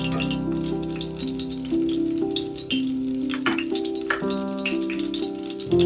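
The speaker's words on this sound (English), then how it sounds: "You see how it's frying in there?" Breaded steak sizzles and crackles steadily in hot oil, a continuous close frying hiss with occasional pops.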